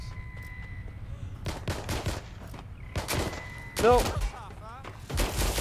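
Gunfire in the video game Watch Dogs Legion: a string of loud sharp shot bursts in quick volleys over a busy game background, with electronic whirring and warbling sounds in between.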